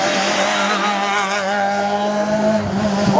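A hillclimb race car at the Hébécrevon national course screams up the hill with a strong, close engine tone rising through the gears, loud and steady with no talk.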